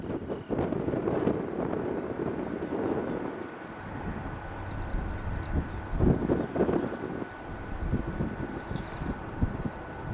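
Eastbound CN L570 freight train with mixed power in Iowa on a windy early April day, a low rumble of rolling cars and engine under gusting wind noise, with a faint higher squeal in the background.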